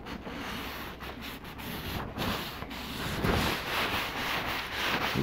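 Close, steady rubbing as finishing oil is worked by hand over a hardwood cutting board and its edges, a dry scuffing swish that continues without break and grows slightly louder toward the end.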